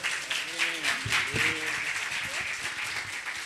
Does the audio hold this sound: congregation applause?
yes